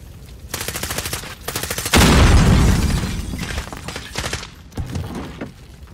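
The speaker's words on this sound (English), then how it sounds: "Oh shit, grenade." Gunfire and a grenade explosion in the Call of Duty Modern Warfare game: rapid automatic bursts, then a loud booming blast that rolls off, followed by more scattered shots, close and dominant.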